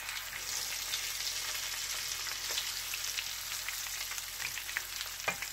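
Pork chops fry in a hot pan with a steady, dense sizzle and crackle that runs the whole time, with small pops scattered through it.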